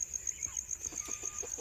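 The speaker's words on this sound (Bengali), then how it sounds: "লেয়ার এবং কিছু ব্রয়লার মুরগির বাচ্চা আছে, তারা এখানেই থাকে।" Faint, soft clucks come from chicks in a poultry farm at night, a few scattered calls in a quiet, still space under a low background hum.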